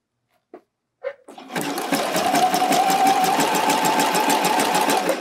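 A sewing machine runs steadily for several seconds, stitching fold-over elastic onto a bralette edge, with a fast regular needle rhythm after a few soft handling clicks at the start.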